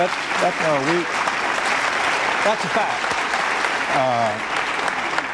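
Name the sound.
audience applause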